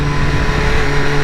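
A 2016 BMW S1000R with stock exhaust accelerates hard, its engine producing a loud, continuous buzzing roar held steady at close range, with no voices over it.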